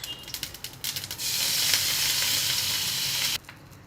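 Mustard seeds, urad dal and curry leaves hit hot oil in a pan, bursting into a loud, close, steady sizzle after a few brief crackles, then cutting off abruptly.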